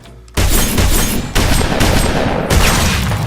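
Gunfire from a skill in the Roblox game Verse Piece, loud and close, in three dense bursts of rapid shots that each start abruptly and run on with a sustained blast.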